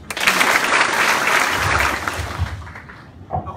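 An audience at an AIM Global business talk claps in a dense burst that fills the first two seconds, then thins into scattered claps and fades under murmuring.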